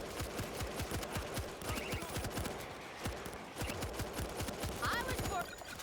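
Rapid bursts of machine gun fire from a World War Z co-op match, dense and continuous for several seconds alongside other in-game noise, with players talking over it.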